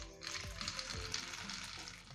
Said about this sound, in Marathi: आता आपण हे शेंगदाणे छान खरपूस होईपर्यंत तळून घेऊया.